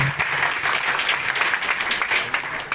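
A seminar audience at an Islamic college in Barabai claps in a sustained burst of applause that fills the room briefly.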